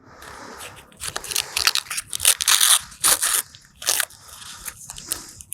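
A plastic bag holding an AC Milan x Off-White fourth football shirt is torn and crinkled open, loud close bursts of ripping and crackling that come in irregular spurts with no talking.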